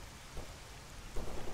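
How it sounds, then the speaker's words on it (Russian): Steady rain hisses in S.T.A.L.K.E.R. Anomaly Gamma, a dense, even wash with soft low rumbles underneath, heard alone and fairly faint. "какой дождичек"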